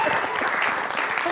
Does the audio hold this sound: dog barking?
no